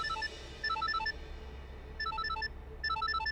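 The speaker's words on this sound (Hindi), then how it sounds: "भूमि का फोन है" A phone ringtone plays in repeated bursts of bright, beeping melodic notes, pausing between rings, with a low steady hum underneath.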